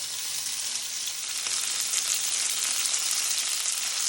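Chicken schnitzels coated in a muesli crumb fry in a hot pan, giving a steady, loud, close sizzle that holds evenly throughout with no voices.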